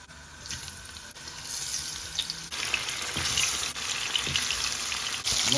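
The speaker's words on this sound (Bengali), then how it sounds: "এখন আমরা মাছগুলোকে একে একে দিয়ে দিচ্ছি ভাজার জন্য" Pieces of hilsa fish going one by one into hot oil, the close frying hiss swelling in distinct steps as each piece is added and then holding at a louder, steady crackle.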